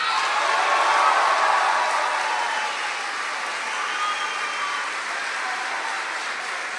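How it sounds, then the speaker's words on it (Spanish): Sustained applause and crowd noise from a concert audience welcoming a guest on stage at a show, a dense, steady wash of clapping that eases slightly after a few seconds and carries on. "Quiero un fuerte aplauso con ustedes"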